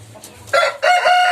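A young rooster on a farm gives a short, loud, close crow in two strained bursts, preceded by a faint low cluck.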